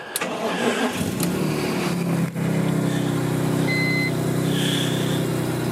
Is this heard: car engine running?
yes